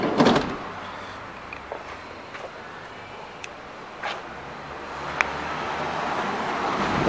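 On a 2013 Renault Kangoo Express 1.6 16v Flex van, the side sliding door is worked. A few sharp knocks and clunks stand out over a steady background of outdoor and traffic hiss.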